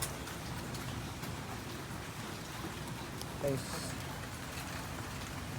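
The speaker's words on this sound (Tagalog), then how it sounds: "Pero dito meron ulan." Steady soft patter of rain falling, a constant hiss in the background, while someone speaks briefly.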